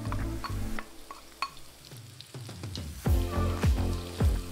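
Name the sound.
onion and carrot frying in vegetable oil in a pan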